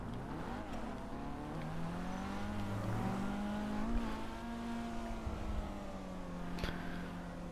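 A Pfister 811 sports car drives steadily in GTA V, its engine holding a smooth, sustained drone that rises and falls in pitch with gear and throttle changes, close and continuous with no talking.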